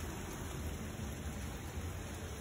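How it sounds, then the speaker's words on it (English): Heavy rain pouring steadily during a thunderstorm, a dense, even wash of noise from start to finish with no talking. "And now it's actually pouring,"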